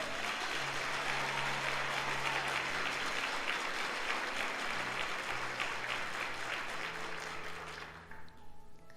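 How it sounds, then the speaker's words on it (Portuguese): A church congregation at a Sunday service breaks into sustained applause, a broad crackling roar of clapping with a faint sustained tone beneath, fading toward the end. "Então dá um aplauso a Jesus."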